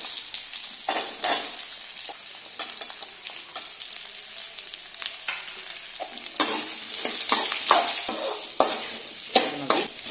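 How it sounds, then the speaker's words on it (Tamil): Large sliced onions fry in oil with golden-fried chana dal for a spicy kara chutney. A steady crackling sizzle runs throughout, broken by frequent scraping strokes of a spoon stirring the pan. "இப்ப நம்ம கட் பண்ணி வச்சிருக்க பெரிய வெங்காயத்தை சேர்த்திக்கலாம்."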